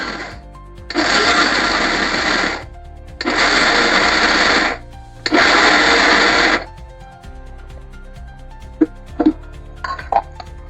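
A kitchen mixer grinder crushing jaggery and grated coconut runs in three loud, whirring pulses of about two seconds each, with short pauses between, followed by a few light clinks.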